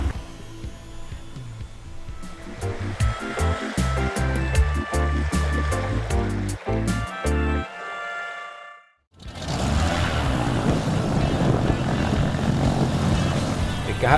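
Propeller airplane engine roaring steadily as it accelerates down a San Diego runway for takeoff, loud and close, with music playing over the first half before the engine drone continues alone.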